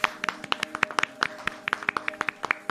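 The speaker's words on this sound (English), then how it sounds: "Let's have a round of applause" Scattered hand claps from a small group, crisp and uneven, with a faint voice underneath.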